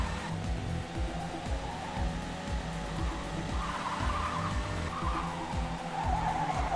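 Race car tyres skid and squeal through a corner in the racing game Trackday Manager, a continuous close screech over the droning engine note, with no talk.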